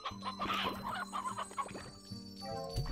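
Chicken clucking in the video game Slime Rancher, a run of short, repeated clucks heard fairly close over a steady game background, with no talk.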